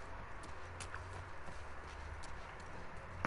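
Bison in the video game The Last of Us Part II plod along as faint hoof clops, irregular and muffled, over a low outdoor rumble.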